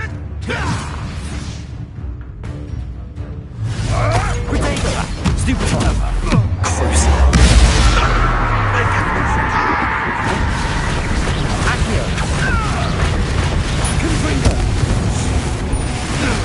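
Spell explosions from Hogwarts Legacy crash and whoosh amid dense combat effects, with heavy booms and mechanical creaks layered continuously under shouted spell names.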